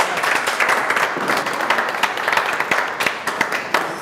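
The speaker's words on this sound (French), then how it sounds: "Oui, on peut applaudir, bien sûr, on peut applaudir." A crowd at a press conference claps steadily and continuously, dense scattered hand claps filling the space at moderate loudness.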